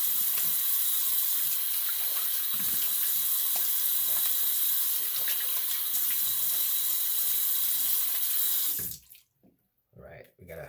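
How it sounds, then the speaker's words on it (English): Water runs steadily from a tap while someone rinses off, a constant loud rushing that stops abruptly near the end, followed by a few quieter sounds. "All right, I'm gonna rinse off."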